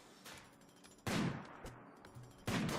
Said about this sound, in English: Tynan, you can keep shooting at me, that's fine.